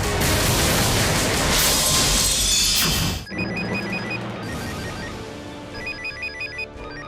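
A telephone rings in short, repeated electronic bursts after a loud, noisy stretch, the rings clear and fairly close with no one talking.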